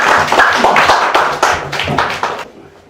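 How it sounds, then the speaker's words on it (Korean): A church congregation claps in thanks to God during a Thanksgiving Sunday service, giving a loud burst of sharp, irregular handclaps with some voices mixed in. It fades out quickly near the end. "우리 찬양 받으신 하나님께 감사의 박수를 올립니다."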